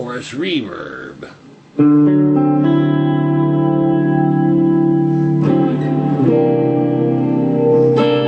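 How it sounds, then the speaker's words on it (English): An electric guitar played through an old rackmount multi-effects unit set to chorus and reverb rings out in sustained, shimmering chords after a brief spoken moment, with a second strummed chord midway. "Chorus reverb."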